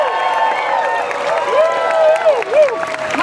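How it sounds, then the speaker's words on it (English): A crowd applauds and cheers to welcome a speaker at a freedom rally, the clapping mixed with prominent sliding musical tones, fairly loud and continuous. "Let's give her a big round of applause."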